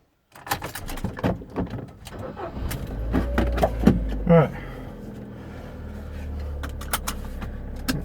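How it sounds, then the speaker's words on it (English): A Ford Fiesta Mk6 setting off on a short test drive after a brake hose replacement: engine rumble and road noise build and hold, mixed with clunks and cabin knocks. "Right then, time for a quick drive."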